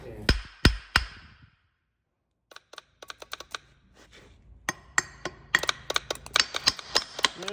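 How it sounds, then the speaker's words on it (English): Several hard knocks from a rubber mallet striking the back of an object ring out, then after a short pause a rapid run of sharp taps and clatters, close and fairly loud, with no one speaking. "I'll get a rubber mallet and we'll just smite it on the back"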